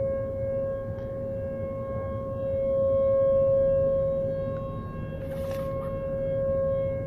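An outdoor tornado siren sounds during a test in Omaha, holding one loud, sustained tone for the whole stretch, with its volume slowly swelling and easing as it sweeps around.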